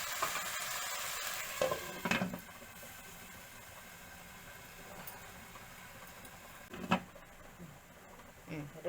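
Vegetables in a pan left to steam and soften for sambar, a soft steady sizzle under occasional utensil clinks and knocks, with a voice speaking briefly.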